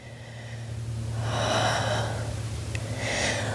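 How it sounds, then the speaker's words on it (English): A slow, deep breath during a Pilates flow, drawn in and then released in two soft, airy swells, close to the microphone over a low steady hum. "1 more breath here."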